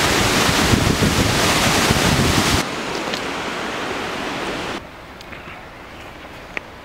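A waterfall roars up close with spray, a dense, loud broadband rush that cuts down in level twice as the position shifts, with no talking.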